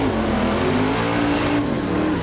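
A big block Chevy drag car engine with aluminum heads, mechanically injected and running on alcohol, roars loud and close with a steady, rough, rumbling drone that holds briefly at speed before easing slightly.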